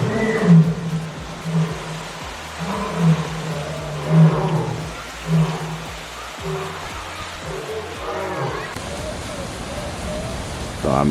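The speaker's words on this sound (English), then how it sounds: "they was just roaring. I guess getting their little morning stretches out or something" Big cats roaring at the Memphis Zoo, a series of deep rhythmic grunting roars repeating about every second, moderately near, with people talking over them and background rain-like noise.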